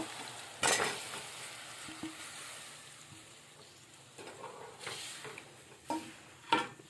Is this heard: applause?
no